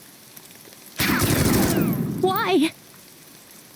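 Heavy rain hisses in a dense wash during a Shadowverse story scene, lasting under two seconds before a robotic, warbling voice cuts in over the end of it.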